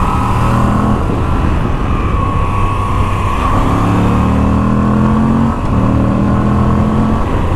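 A 2021 Moto Guzzi V85 TT motorcycle riding through curves, its mid-pitched engine droning steadily and loud throughout, with slight shifts in tone as the throttle changes and wind noise over the top.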